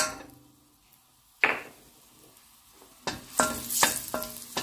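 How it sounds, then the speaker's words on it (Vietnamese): Shallots stir-fried in hot oil in a pan for fried rice, a sizzle that swells as they hit the oil, with sharp scrapes and clanks of the utensil against the pan, close and loud, no talking. "Sẽ xào hành tím cho nó thơm."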